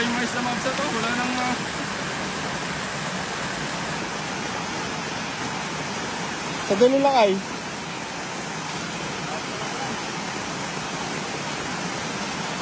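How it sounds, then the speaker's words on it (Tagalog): Heavy rain pours in a constant, broad wash of noise throughout, with a short stretch of someone speaking near the middle over the downpour. "lakas ng ulan"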